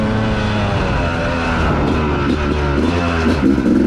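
A 2019 Yamaha YZ250X two-stroke dirt bike fitted with a SmartCarb, ridden off-road, its engine droning and buzzing steadily up close with rising and falling pitch as the throttle shifts.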